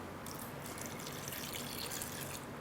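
Fresh coconut water pours into a blender jar for a tropical smoothie, a steady splashing stream that runs unbroken and fairly close, with no voices.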